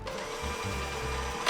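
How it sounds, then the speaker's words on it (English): An electric hand mixer whisks tiramisu cream cheese filling in a bowl, a steady close motor whir with a faint rising pitch, running alone throughout. "Grab your whisk and get to whisking."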